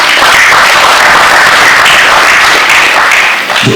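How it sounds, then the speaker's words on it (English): A large audience applauds the President at the official launch of a student venture capital grant, a dense, loud, steady wash of clapping that carries for nearly four seconds before easing slightly at the end. "I believe the President deserves another round of applause."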